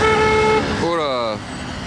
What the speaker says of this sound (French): la vieille Porsche qui a failli taper, vous avez entendu le klaxon?